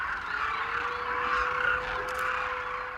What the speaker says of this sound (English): This is the sound of a species of crane that breeds in Central Asia and migrates to Africa